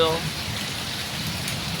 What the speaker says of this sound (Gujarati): તમે જોઈ શકો છો આજે ફૂલ વરસાદ ચાલુ છે અમદાવાદની અંદર